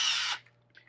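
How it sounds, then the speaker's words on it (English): A power drill bores holes through the interior skin of a car door, a loud high-pitched whine lasting about a third of a second before cutting off, followed by faint residual noise. "we're going to change bit and drill our holes."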